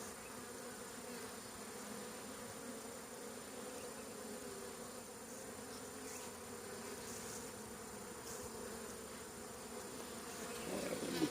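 Honeybees buzz steadily throughout a spring hive colony inspection, a dense, continuous drone of many insects close by, with a brief louder rustle at the very end.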